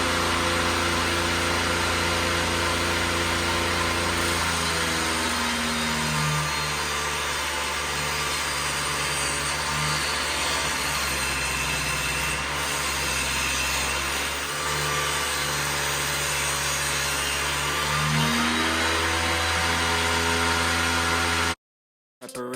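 A power saw cuts a dado into a wooden board for a barn door, a loud sustained motor whine with grinding cutting noise running unbroken for about twenty seconds before stopping abruptly.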